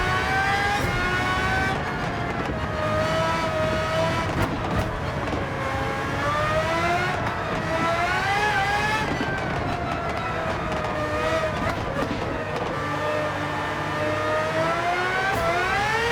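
Race car engine in Gran Turismo 7 on a highway circuit during an online Nations Cup race, a loud continuous engine drone rising and falling in pitch through gear changes and engine braking, with no talking.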